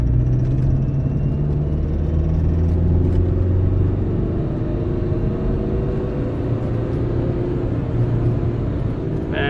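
A Kia Sedona 2.9 CRDI with a limp-mode fault drives on quiet back roads, a steady loud engine and road rumble with slowly shifting low tones throughout, heard from inside the car.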